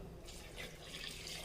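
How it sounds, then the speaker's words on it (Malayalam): Water poured into a pot of lentils being cooked for sambar, a soft, steady trickling and splashing that runs quietly for about a second and a half with no voices. "നന്നായി ഒന്ന് വെള്ളം ഒഴിച്ച് ഇളക്കി കൊടുക്കാം."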